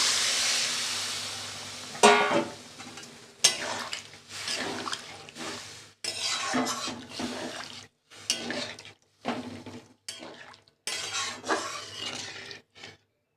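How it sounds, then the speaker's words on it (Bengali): Water pours into a hot pan of simmering taro and potato curry, starting with a loud hissing sizzle, then fading into bursts of bubbling and spluttering broken by short quiet gaps, close by. "আমি এবার জল দিয়ে দিলাম।"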